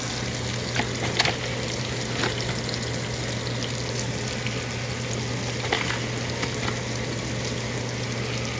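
Mushrooms browning in a pan on a stovetop give a steady, moderate sizzle with faint crackles and pops, continuing throughout under a low constant hum, with no talking.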